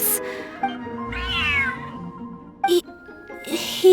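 A large cat meows in a video game, a drawn-out, clear cry heard up close among quiet background game sounds and brief chimes, with no talking.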